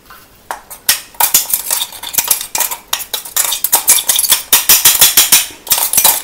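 Ground chia seed and mustard powder scraped and tapped from a container onto a plate, with rapid metallic clinks and scraping of a spoon against dishware, close and busy, no speech.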